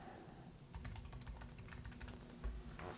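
Quiet typing on a computer keyboard: a quick run of light clicking keystrokes at a low level, steady and close, with no talking.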